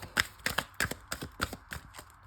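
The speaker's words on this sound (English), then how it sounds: "I'm going to go ahead and shuffle again" Tarot cards are shuffled by hand in a quick, regular series of riffling bursts, about eight close, crisp strokes with no talk.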